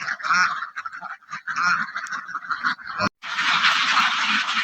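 Layer ducks quacking and honking in a loud, dense flock during duck plague vaccination, calls overlapping continuously with a brief gap before an even louder burst.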